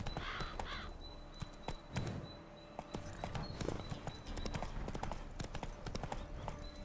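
Roach the horse in The Witcher 3 walks along, hooves clip-clopping in a steady, close rhythm, with crows cawing and ambient game sounds behind.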